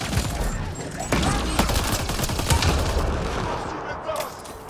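Rapid gunfire bursts from the Mass Effect Andromeda video game, set in a cave on the planet Eos, crackle steadily and loudly across the whole stretch, with sharp repeated shots over a dense rumbling game soundscape.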